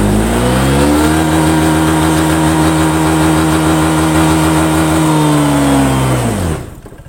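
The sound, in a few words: Honda PCX 150 scooter engine revving with the rear wheel unloaded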